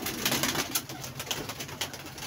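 Pigeons cooing softly in a loft, a low continuous murmur of overlapping coos from several birds, faint and steady.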